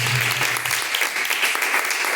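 Worshippers in a church service clap together in praise, a steady dense round of applause heard alone throughout.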